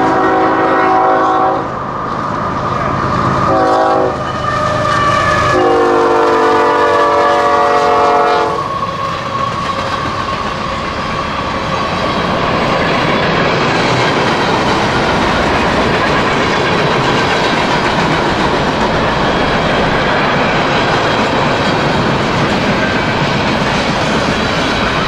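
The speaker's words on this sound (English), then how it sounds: "We got a train." A freight train horn blares in several long blasts near the start, then the heavy freight train rumbles and clatters past steadily for the rest of the clip.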